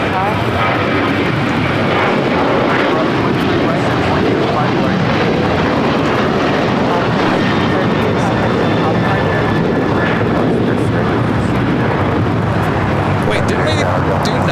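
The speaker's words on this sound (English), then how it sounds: "That was Alaska 1332 taking off to Liberia on the 737-900 ER" An Alaska Airlines Boeing 737-900ER taking off at LAX, a loud, sustained jet roar filling the air throughout, with people talking underneath.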